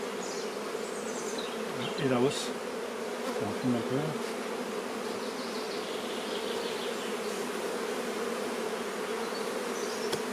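Honeybees buzzing steadily around an open beehive super during a hive inspection, a dense close hum throughout, with someone speaking briefly over it.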